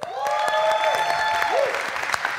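A church congregation claps and cheers steadily, dense and close, with a voice calling out over the applause.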